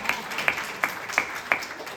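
Five loud, evenly spaced claps ring out from a gathered audience at a Hindu devotional katha, a sharp rhythmic beat rising above a low background murmur.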